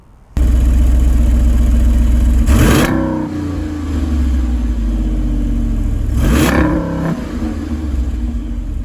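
A Jeep Wrangler with the 392 V8 starts, then idles with a deep rumble, broken by two sharp throttle blips a few seconds apart that rise and fall back to idle, loud and close.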